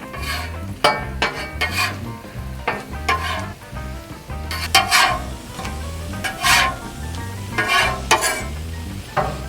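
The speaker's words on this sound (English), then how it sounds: "let's go ahead and flip our tortillas over" Tortillas for chorizo breakfast tacos fry loudly in a pan, a crackling sizzle running throughout as they are flipped, with repeated sharp spatula scrapes and metallic clinks coming every second or so.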